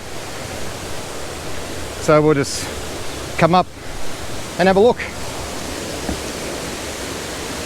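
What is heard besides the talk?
Lilydale Falls waterfall in Tasmania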